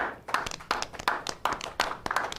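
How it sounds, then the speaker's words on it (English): Scattered clapping from a small audience watching a screening of the film Alongside Night, irregular claps close by at moderate level with no talk. "Why are you guys applauding that?"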